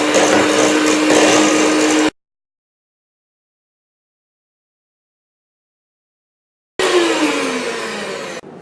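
An electric mixer whirs loudly as flour is worked into yogurt cake batter. It runs steadily for about two seconds, falls silent, then starts again briefly.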